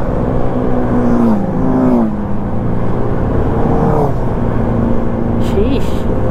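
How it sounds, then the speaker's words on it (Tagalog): A motorcycle engine held at full throttle on a Marilaque mountain road, a steady loud drone with shifting pitch sweeps throughout under continuous wind noise, with some talk over it. "kawawa naman yung motor ko kasi sagad na"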